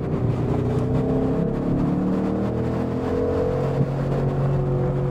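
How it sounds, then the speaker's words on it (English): A Ford Mustang Boss 302 V8 holds a steady, loud engine drone with rising and falling tones like revving or cruising under load, and no voices. "it's just going to be 10 minutes of engine noise"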